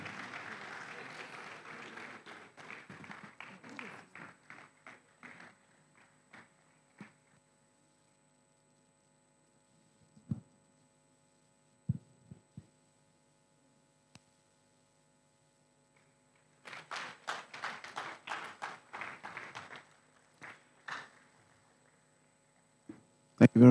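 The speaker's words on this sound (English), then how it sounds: "Let's clap for Frank." Scattered applause from an audience clapping for Frank at a gathering: a burst of claps at the start, a few isolated claps in the middle, then another round near the end, faint with mains hum between.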